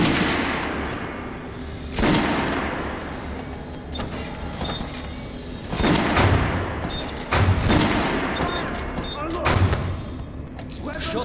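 Weapon training in Metro: Last Light, with loud sharp gunshots firing at intervals amid mechanical clatter, while a voice gives instructions over them.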